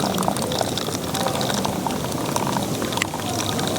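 Dry ginger coffee (chukku kaapi) poured into a glass outdoors, a steady close liquid splash and gurgle running throughout under faint background noise.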